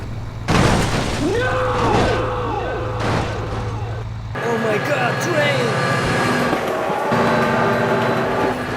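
A cartoon train roars past loudly and up close for several seconds, with rumbling wheels, a steady mechanical drone and rising horn-like tones, while excited voices call out over it.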